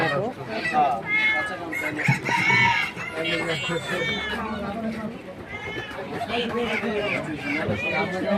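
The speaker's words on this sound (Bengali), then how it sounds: "মুরগি আর মুরগি, তারপর এদিকেও মুরগি আছে অনেক।" A crowded chicken market is full of clucking, squawking and crowing from many chickens of desi and sonali breeds, both close and further off, with someone talking over the birds.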